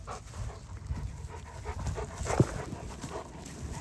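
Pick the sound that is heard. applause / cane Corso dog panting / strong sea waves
cane Corso dog panting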